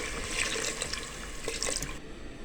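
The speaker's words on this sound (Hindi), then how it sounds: "एक गिलास हम पानी शामिल करेंगे।" A glass of water poured into a cooking pot while a Pakistani tinda gosht, meat with round gourd, is being made, a short splashing pour that stops abruptly after about two seconds.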